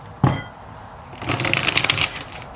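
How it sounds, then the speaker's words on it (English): Tarot cards are shuffled close up: a sharp flick, then a quick rippling riffle of papery snaps lasting about a second. "Just gonna shuffle so I can get some cards for you here."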